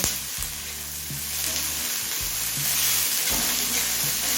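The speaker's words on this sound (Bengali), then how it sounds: "মটরশুটি আর ক্যাপসিকাম দিয়ে আরও কিছুক্ষণ ভেজে নেব" Peas and chopped capsicum frying in a pan, a dense continuous sizzle with low clattering knocks and scrapes of stirring, loud and close, no speech present.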